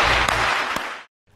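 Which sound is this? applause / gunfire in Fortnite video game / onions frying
applause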